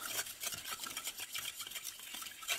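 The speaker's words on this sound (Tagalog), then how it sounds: "Tapos haluin nyo lang siya hanggang sa matunaw." Hot used cooking oil is stirred with a utensil to dissolve a hardener, giving quiet, continuous scraping and swishing strokes in a quick, uneven rhythm, close up, with no voices.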